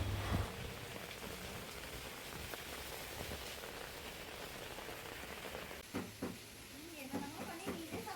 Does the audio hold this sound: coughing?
no